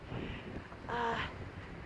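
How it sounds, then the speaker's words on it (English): Wind buffets a microphone in a steady low rumble, with a brief louder gust about midway. "Oh my goodness, it's windy today."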